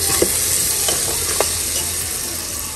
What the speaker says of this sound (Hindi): मेरा तड़का लग रहा है